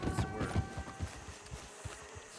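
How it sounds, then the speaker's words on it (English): Horse hooves clip-clopping in the video game Red Dead Redemption 2, a quick irregular series of hoof thuds with a low rumble beneath, moderately close and fading slightly. "Horse."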